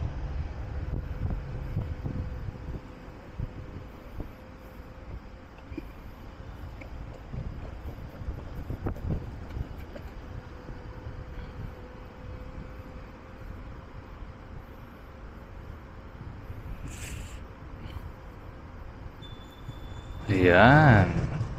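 Steady wind rumbles against the microphone in a low, continuous roar outdoors on a sunny, cold day on a street in Germany, with a brief burst of louder noise near the end.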